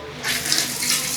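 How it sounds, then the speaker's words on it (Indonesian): Water runs from a tap in a small bathroom, a steady close splashing rush that starts after a brief quiet moment and continues unbroken. "Ada keran."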